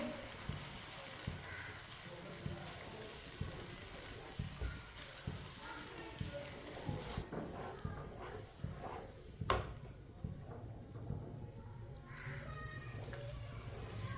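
Semolina roasts in a pan for halwa while being stirred, with intermittent scraping and clattering strokes over a low sizzle, close by, and a voice talking at times.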